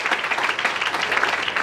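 A church congregation applauds for the Lord at a sermon, with a brief burst of steady, dense clapping that stays even and loud throughout.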